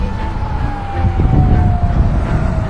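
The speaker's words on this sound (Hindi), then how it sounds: "पूरे देश भर में सायरन्स बजने शुरू हो गए थे।" An air raid siren sounds across Israel during a missile attack from Iran: one faint, steady, slowly falling distant wail over a loud rumbling, windy background, with no talk.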